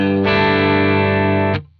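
Electric guitar through a Headrush Prime compressor effect, one sustained chord that rings steadily at even loudness for over a second, then is cut off sharply with a brief decay.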